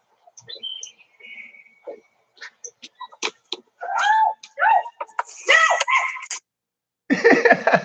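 A cat meows and yowls in a string of short and drawn-out cries, loud and close, with pauses between them and a harsher burst at the end.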